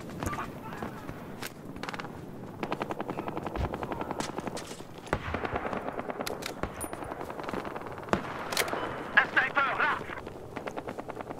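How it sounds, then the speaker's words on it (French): Video game gunfire, with sharp sniper shots and bursts of automatic fire crackling across a dusty desert battlefield, scattered through the scene while someone speaks over the action. "C'est un sniper !"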